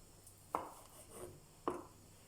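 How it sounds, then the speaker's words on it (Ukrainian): A knife knocks twice on a board while meat taken off the rib bones is cut into small cubes for kharcho soup, two quiet distinct chops about a second apart. "відділяємо м'ясо від кісточки і нарізаємо невеличкими кубиками."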